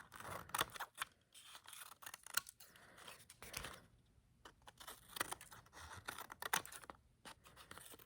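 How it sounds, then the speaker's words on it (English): Repeated crisp snipping and rustling of straight scissors cutting paper strips along a loom, in short irregular bursts with brief pauses, close up and fairly quiet, no talking. "I'm going to take some straight scissors, wherever they went, and I'm going to cut right along my loom."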